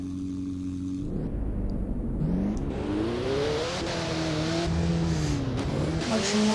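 Engine of a tuned car driving in a Roblox racing game, a loud continuous engine note rising and shifting in pitch as it accelerates through gears, with faint tire noise.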